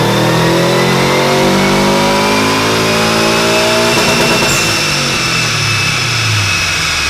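A tuned 800-horsepower Subaru STi blobeye engine revs hard during a tuning pull, loud and close throughout, its pitch sweeping up through the gears with a brief shift break midway and a sustained roar to the end.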